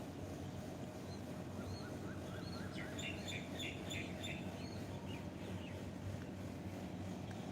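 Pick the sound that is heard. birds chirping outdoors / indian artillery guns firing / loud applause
birds chirping outdoors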